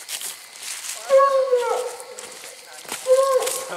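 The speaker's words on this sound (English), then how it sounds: "They're barking at your tree" Coon hunting dogs bay and howl at a tree stand at night in drawn-out, wavering cries from a short distance, with people talking in between.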